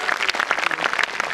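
Brief burst of dense hand clapping from an audience at a wellness conference's closing function, close and lively with no voices.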